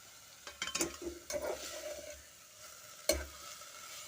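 Climbing brinjal and balloon vine leaves are stirred and tossed in a hot pan, giving soft sizzling with a few scraping stir strokes, quiet and close, with a sharp knock near the end.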